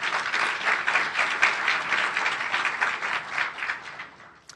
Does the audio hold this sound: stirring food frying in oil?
no